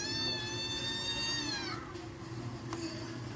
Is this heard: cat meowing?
yes